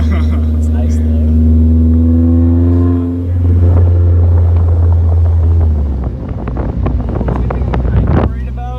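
A BMW E36 with a custom exhaust accelerates, a loud droning engine note rising steadily in pitch, then shifting into rougher revving with wind buffeting and a person talking over it.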